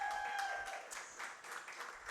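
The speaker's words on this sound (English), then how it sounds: "An applause that is, my friend, very well deserved" Applause greets the South Range Raiders football coach at Giangelo's in Boardman: a steady wash of many hands clapping close by, dense and even for its whole brief length with no voices above it.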